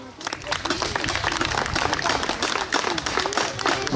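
Outdoor crowd at a medieval festival in Château-Thierry applauds lance fencers after a bout, a steady, dense patter of many hands clapping that holds for several seconds.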